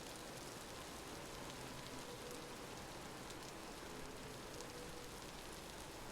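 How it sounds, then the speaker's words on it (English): Constant downpour in the crafting game Vintage Story, a full, unbroken wash of rain noise with small crackling drop hits on top, holding at the same level from start to end with no talking. "the rain's kind of loud."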